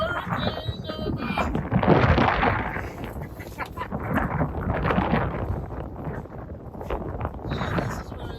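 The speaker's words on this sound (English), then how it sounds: "That wind. Coming to you live from Hurricane Irma." Hurricane Irma wind roaring and buffeting hard against the microphone outdoors, a loud continuous rumbling rush that swells and eases in gusts.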